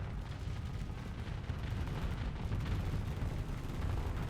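Point defense guns shooting down incoming rockets and ships in the StarSector space game, a dense continuous roar of rapid gunfire and explosions, loud and sustained throughout.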